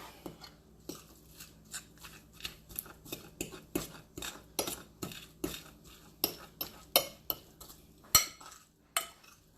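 Mackerel cake mixture is stirred in a bowl, giving a close, steady run of scraping and clinking strokes in an irregular rhythm, with no talking.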